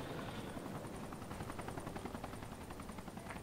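A helicopter in the video game Special Force 2, its rotor thumping in a steady rapid pulse over a dense whooshing roar, loud and continuous throughout.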